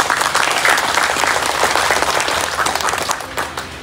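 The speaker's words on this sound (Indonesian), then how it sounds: "Tepuk tangan dulu." An audience claps loudly and steadily at a company director's speech at a community empowerment event, the dense applause sustained throughout and easing slightly near the end.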